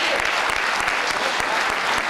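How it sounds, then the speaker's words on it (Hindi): A crowd at a Hindi comic poetry gathering in Jodhpur claps loudly and continuously, individual hand claps showing as sharp repeated strikes within a thick, even roar. "मैं चाहती हूँ कि एक मर्तबा आप ज़ोरदार तालियां बजा दें"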